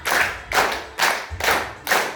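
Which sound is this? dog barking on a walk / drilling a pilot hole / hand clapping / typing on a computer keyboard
hand clapping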